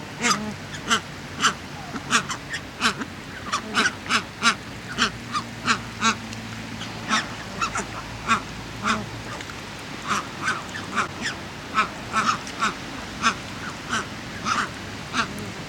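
Bar-headed geese calling at Grange-Over-Sands, a long run of loud, nasal honks repeating in an irregular rhythm, close by, with several birds overlapping against low background noise.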